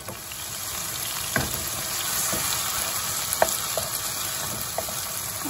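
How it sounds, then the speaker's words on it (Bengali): Radish frying with spices in a pan for a radish curry gives a steady close sizzle throughout, broken by a few sharp stirring clinks and scrapes. "মুলোটা একটু মশলার সঙ্গে ভাজা ভাজা হলে"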